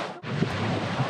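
Ocean surf on a Hawaii beach roars in a broad, steady wash, loud and close, with gusting wind buffeting the microphone.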